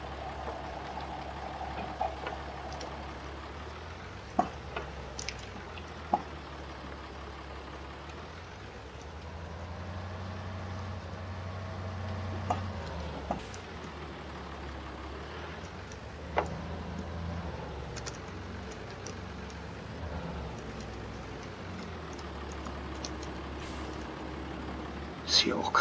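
Deutz tractor engine in Farming Simulator 22, running at a steady low drone throughout with a few brief clanks and knocks over the top, with talk along the way.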